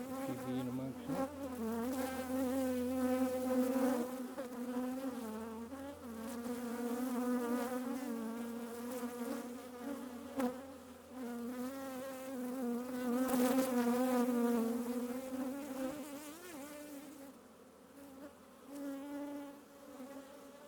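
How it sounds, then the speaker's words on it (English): Italian honey bees buzz around a hive in a city setting, a dense close swarm hum that rises and falls steadily for the whole stretch, with no talking over it. "Quality bees come out of someone's hive that's got an Italian queen or something. A bunch of bees there."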